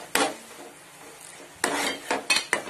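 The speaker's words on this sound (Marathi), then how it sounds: "आणि त्याच्यामध्ये आता आपल्याला हा कांदा खोबऱ्याचं वाटण घालायचं आहे." Onion-coconut paste stirred into a chana masala pan, a few sharp scrapes and clatters of a spoon against metal separated by quiet gaps, close and moderately loud.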